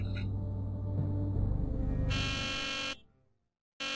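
An alarm clock in a Nancy Drew video game blares a harsh, loud buzz that cuts off abruptly and then starts again after a short silence.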